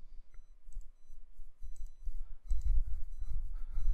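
Computer mouse clicking at a desk, a few sharp, close clicks spaced irregularly over a quiet background with faint low thumps.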